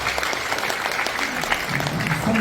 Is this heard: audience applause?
yes